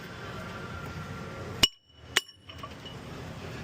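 A steel pivot pin is driven out of a JLG telehandler's primary lift hydraulic cylinder, giving two sharp metallic clinks about half a second apart over low background noise.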